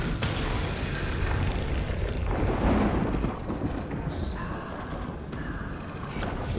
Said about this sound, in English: Fire the laser.